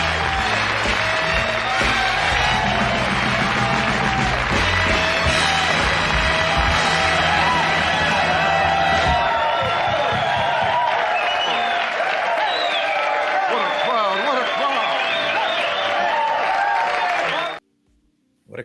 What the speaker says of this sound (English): What a crowd. Come on in, folks.